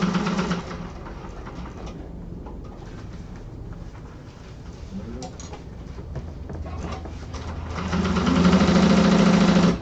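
A sewing machine stitches and backstitches over a zipper's teeth, a continuous close mechanical whir that swells louder near the end.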